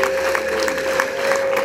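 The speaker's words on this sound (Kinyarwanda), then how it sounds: "Nimubona ari byiza muze gukoma amashyi" Guests at a wedding clap together in a brief, steady burst of applause, near and fairly loud, with no talk over it.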